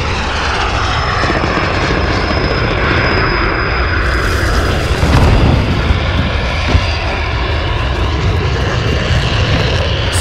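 A plane engine in the Call of Duty: Modern Warfare video game drones steadily for about ten seconds, loud and continuous, with a whine above the roar and no voices.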